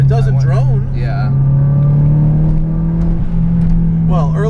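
A modified Mazdaspeed6 engine and exhaust hold a steady, deep drone while driving, loud and close, with people talking over it now and then.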